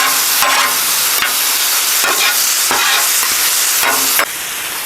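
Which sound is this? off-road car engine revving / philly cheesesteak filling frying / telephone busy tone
philly cheesesteak filling frying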